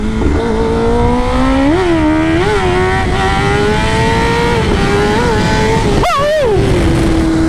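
A 2023 Kawasaki ZX-10R sport motorcycle roars loudly and continuously with traction control off, its pitch climbing and dipping through gear changes, then a sharp rev sweep and braking deceleration near the end.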